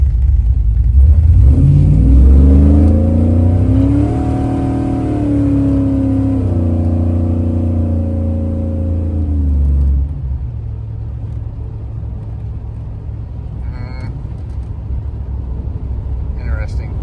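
An LS-swapped OBS pickup truck with a carburetor and transmission trouble accelerates at about half throttle. The engine drone climbs steadily for several seconds, eases softly into the next gear, then settles into a lower, steady rumble.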